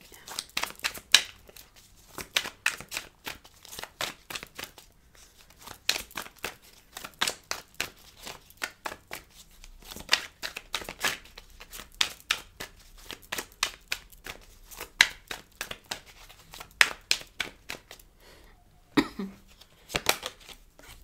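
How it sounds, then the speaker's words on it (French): Tarot cards in a reading are dropped, flicked and shuffled by hand, giving a long run of quiet, close, irregular papery slaps and riffles, with brief bursts of talk in between. "Alors, je fais tomber toutes les cartes."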